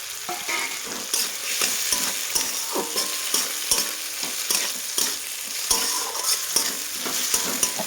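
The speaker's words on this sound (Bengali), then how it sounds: "এখন আমি এটি দিয়ে দেবো সে কুচিয়ে রেখেছিলাম টমাটোগুলো।" Chopped tomatoes go into fried spice masala and are stirred, producing a continuous sizzle broken by frequent sharp scrapes and knocks of a spatula against the pan.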